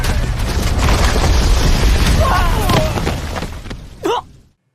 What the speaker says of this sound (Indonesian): dia justru secara nekat meledakkan seluruh isi kota